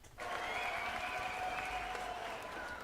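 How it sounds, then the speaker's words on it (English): A canned crowd cheer and applause sound effect starts abruptly and holds as a dense, steady wash of clapping and cheering at moderate volume for a few seconds. "Look, you even get a cheer."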